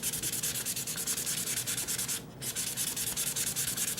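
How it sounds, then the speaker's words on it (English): A Cold Steel Large Lawman knife blade rubbed with 1000-grit sandpaper in quick, rhythmic back-and-forth strokes, producing a close, raspy scratching with one brief pause midway. "now we hit it with the 1000 grit"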